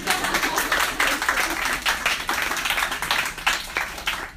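A student audience at a sophomore council presidential debate claps in sustained, dense applause, fairly close and steady throughout.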